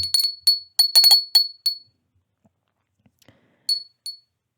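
A small handheld bell rings in several quick bursts of bright, glassy clinks, then falls silent before two final rings; no voices are heard.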